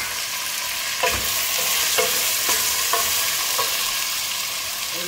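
A kilo of fried chicken is stirred in a sizzling pan for chicken Manchurian, with a steady hiss of frying broken by about six regular scraping strokes of the utensil, close and clear with no talk.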